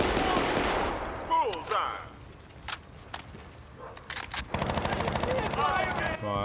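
Bursts of video game gunfire from Battlefield: Bad Company, with sharp repeated shots and short automatic volleys in uneven clusters, loud and close, mixed with game effects and a voice.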